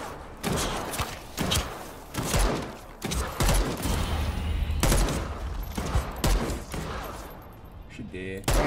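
Rifle gunfire in a zombie shooter game, a string of sharp repeated shots with heavy thuds spread across the clip, under chatter from players.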